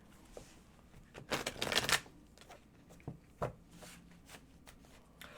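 Tarot cards shuffled by hand, a few quick riffling bursts with one louder flurry, then softer sliding and tapping of the deck, close and alone without talk.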